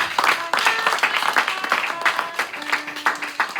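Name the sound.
applause from church congregation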